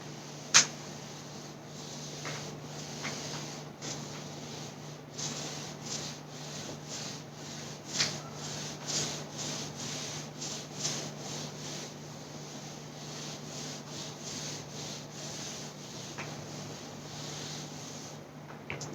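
Writing being rubbed off a classroom board, a long run of soft, rhythmic scrubbing strokes, close and fairly quiet, with a few sharper knocks and a steady low hum underneath.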